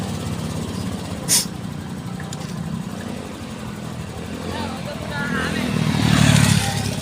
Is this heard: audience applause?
no